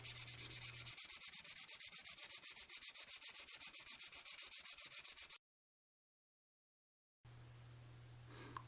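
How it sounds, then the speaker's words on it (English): Sandpaper rubbed back and forth along a dry reed stem being shaped into a fishing float, a steady rapid rasping of close, even strokes that breaks off into silence, then a quieter hiss returns. "The stem then needs to be cleaned with sandpaper."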